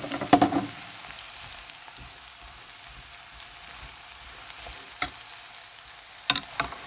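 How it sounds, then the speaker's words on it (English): Peppers and green chili stirred into pumpkin cooking in a pan, with a soft steady sizzle throughout and a few brief spoon scrapes and clinks, louder near the start. "Now I am mixing some peppers and green chili."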